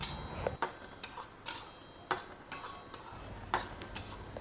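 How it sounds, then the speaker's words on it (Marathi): A utensil scrapes and taps against a pan as semolina is stirred while roasting over low heat: close, crisp, irregular clicks and scrapes, roughly one or two per second, with no talk. "रवा मी आता मंद आचेवर भाजण्यास सुरुवात केलेली आहे"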